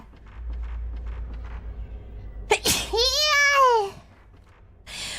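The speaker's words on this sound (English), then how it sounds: "there's a full sneeze" A single full sneeze bursts out with a sharp intake and a strong, drawn-out voiced release, close and loud, against a quiet room with faint background murmur.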